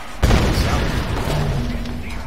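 A heavy burst of gunfire and booming blasts erupts in the Tomb Raider video game, loud and close, with a dense sustained rumble fading over about two seconds.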